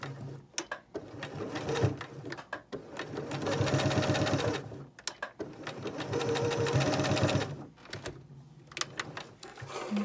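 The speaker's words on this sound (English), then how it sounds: "put it in here, and then sew that." A sewing machine stitches ribbon for bows in close bursts of fast, even, rhythmic whirring, roughly two long runs separated by pauses filled with short clicks and handling noise.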